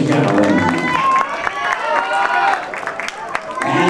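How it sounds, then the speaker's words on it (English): Applause for ballroom dance competition finalists mixes with clapping and crowd noise, while a host's amplified voice speaks over it almost throughout. "Nice round of applause for our finalists, ladies and gentlemen."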